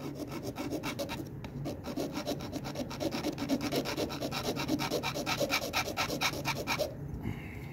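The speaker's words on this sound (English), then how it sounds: "I'm going to take this file, and I'm going to sand this flat again." A hand file rasps a forged nail flat with rapid back-and-forth strokes, a rhythmic scraping that is close and steady for several seconds before stopping, with no speech.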